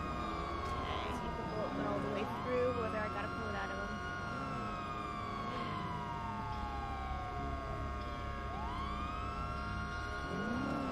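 A fire truck siren wails steadily through rising and falling sweeps, loud and continuous, with a deep engine rumble underneath.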